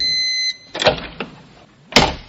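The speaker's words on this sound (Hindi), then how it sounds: "दरवाजे की आवाज एक बार फिर से आई" A door sound effect in a Hindi horror story: a high creaking tone fades out, then a few sharp knocks and clunks, ending in one louder thud.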